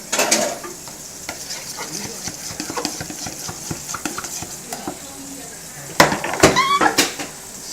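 Strawberry juice mixture stirred in a bowl for topping a shortcake, with scraping and clinking spoon strokes in an irregular rhythm, close and moderately loud, a sharper flurry of knocks near the end.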